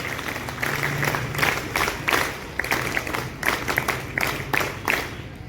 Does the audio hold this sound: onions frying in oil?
no